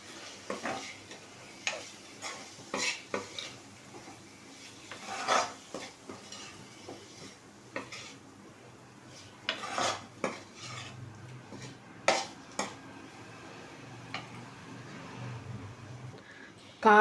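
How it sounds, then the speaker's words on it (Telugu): Chicken liver stir-fried with chili powder and coriander powder in a pan, heard as quiet scattered clinks and scrapes of a spoon against metal, with a faint low sizzle underneath. "కారం 1/2 స్పూన్, ధనియాల పొడి 1 స్పూన్, మొత్తం ఫ్రై చేసుకుందాం."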